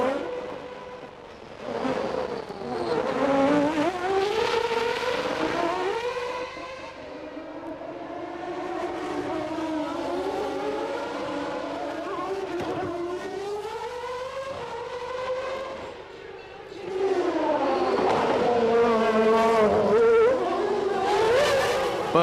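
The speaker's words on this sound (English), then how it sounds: "Mika Häkkinen puts in a blinding lap to edge himself into pole position ahead of Michael Schumacher's Friday best." Formula One cars lapping during 1994 qualifying, their high-pitched engines wailing and sweeping up and down in pitch as they pass near, continuous and loud across the stretch with no voices.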